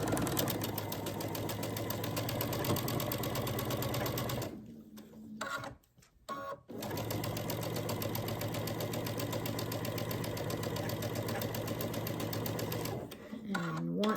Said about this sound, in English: taking it to the machine and sewing down this long line after we line it up